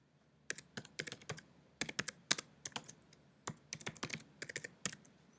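Username and password tapped out on a computer keyboard, quick close bursts of crisp key clicks in irregular clusters with brief pauses between, quiet and alone.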